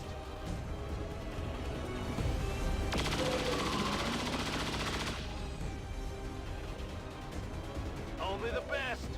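Dense, sustained weapon fire in XCOM 2 crackles continuously in bursts, loud and close, with game voices speaking over the shooting.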